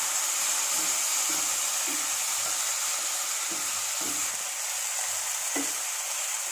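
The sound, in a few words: onion and tomato cooking in a pan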